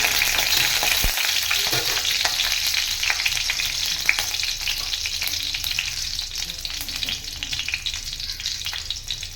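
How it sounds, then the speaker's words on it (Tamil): Garlic frying in hot oil in a kadai, a bright, dense crackling sizzle that stays loud and constant throughout, with small pops scattered across it and no voices. "இப்போ நம்ம கடையை வச்சுட்டு எண்ணெய் ஊற்றிக்கலாம் பூண்டை சேர்த்துக்கலாம்"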